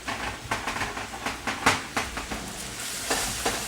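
Trimmed asparagus cooks down in a small pan on a keto side dish, with a rhythmic series of close scrapes and taps over a soft sizzling bed.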